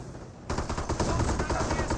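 Rapid machine-gun fire from a World War II battle in Company of Heroes, a loud dense burst that breaks in suddenly after a brief quiet and rattles on continuously.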